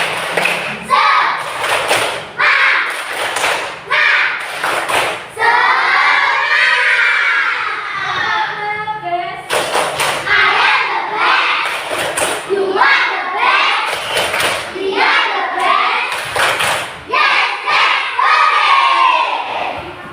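A classroom of children doing a rhythmic clapping chant, with sharp regular claps interleaved with loud chanted and shouted voices, the pattern repeating twice at close range.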